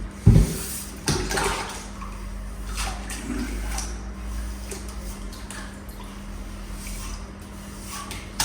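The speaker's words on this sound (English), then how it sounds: "I just have to wash my trowel off" A plastering trowel being washed off in water, giving soft sloshing and splashing with a few louder knocks near the start, continuing faintly and steadily to the end without speech.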